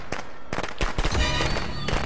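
Fireworks go off in a quick cluster of sharp, crackling bangs and pops, several bursts in about two seconds, loud and close with a fizzing tail between blasts.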